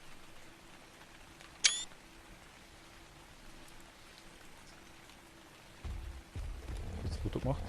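A camera shutter snaps once, short and crisp, over steady soft rain-like ambience in the video game ARK: Survival Evolved, with low rumbling noise entering toward the end.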